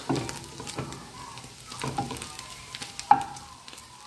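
Adobo flakes toasting in a pan, with a soft continuous sizzle broken by scraping stir strokes and a few clinks of a utensil against the pan, close and fairly quiet.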